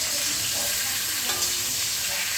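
Potato and pointed gourd fry in hot oil, giving a dense, even, close sizzle that carries on without a break.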